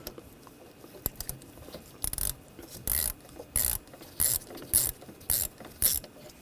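A ratchet clicks in short, even bursts while tightening a screw on the coolant reservoir bracket of a 2007-2013 BMW X5, close-up and repeated about eight times with brief pauses between, no voices.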